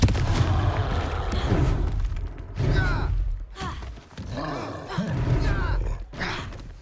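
Spell blasts and impacts from the Hogwarts game boom repeatedly in a run of crackling, rumbling explosions at moderate volume, with swooshing effects between them.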